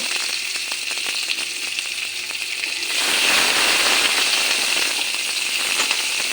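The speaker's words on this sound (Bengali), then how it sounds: "পেঁয়াজটা একটু হালকা করে ভাজা করে নিই" Chopped onions fry in a hot pan, a soft crackle that suddenly grows louder and denser halfway through, then holds steady.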